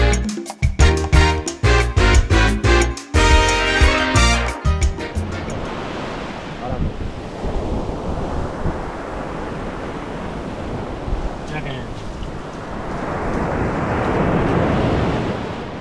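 Ocean surf rolls onto the beach at Cabarete, Puerto Plata, on the Caribbean coast. A broad wash of waves swells and recedes with wind buffeting the microphone, following a few seconds of music.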